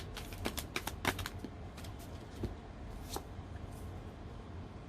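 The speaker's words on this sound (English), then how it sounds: "I'm gonna shuffle and see" Tarot cards being shuffled by hand, quick soft riffling clicks in short bursts, close and quiet over a low background hum.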